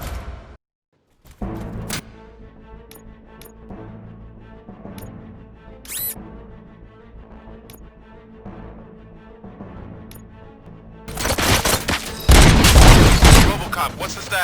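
Rapid gunfire erupts in RoboCop: Rogue City, a loud, dense burst of shots after a long stretch of quieter music and scattered clicks, with the shooting dominating the final few seconds.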